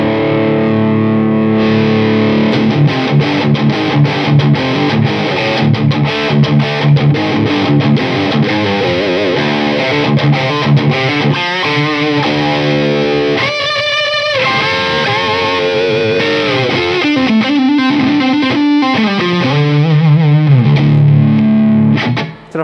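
Heavily distorted electric guitar, an Epiphone Noel Gallagher Signature Riviera semi-hollow, plays chords and riffs continuously, loud and sustained, with no voices.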